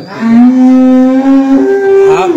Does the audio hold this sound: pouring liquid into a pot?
no